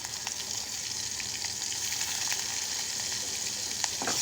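Onion paste frying in a pan while chicken curry cooks, a steady hiss and crackle of sizzling oil with occasional light pops and stirring scrapes, close and continuous with no talking.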